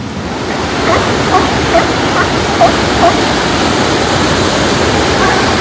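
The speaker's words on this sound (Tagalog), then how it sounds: "Malaki yung mga alon dito." Steady roar of ocean surf and rushing water at La Jolla, California fills the scene, a broad continuous wash with a few faint distant voices scattered underneath.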